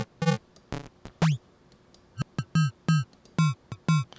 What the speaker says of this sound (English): to give a little bit of that digital bit crush kind of sound.